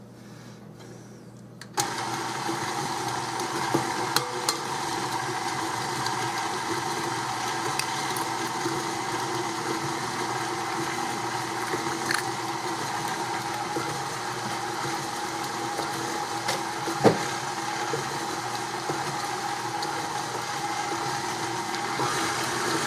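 An electric mixer whirs steadily while mixing an egg into cookie batter, switching on abruptly and then holding an even, close mechanical drone with a few faint clicks.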